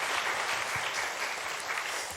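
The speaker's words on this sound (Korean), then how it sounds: "우리 찬양대 다시 한번 박수해 주시겠습니까?" A church congregation applauds the choir during a Sunday worship service, steady dense clapping throughout, fairly loud and without talk.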